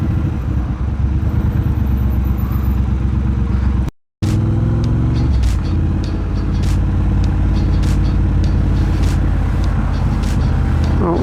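A Triumph Bobber motorcycle with British custom exhaust pipes burbles in a loud, deep, steady rumble while riding, with a brief dropout partway through before the engine note returns with some popping.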